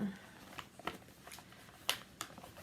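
Paper scraps, including Christmas-themed paper, are handled and shuffled up close, giving soft rustles and a few sharper crinkles and flicks that arrive in an irregular rhythm, quiet and alone.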